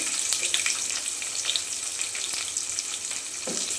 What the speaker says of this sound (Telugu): ఇప్పుడైతే ఒక చిన్న ఆనియన్ వేస్తున్నాను చిన్న చిన్నగా కట్ చేసుకుని